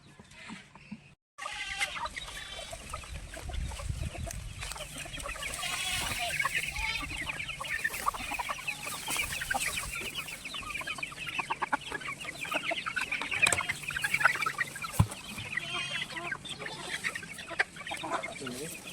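Chickens cluck and squawk throughout, busy and overlapping, with general farmyard noise and scattered thumps in the background at a goat and chicken farm as feed arrives.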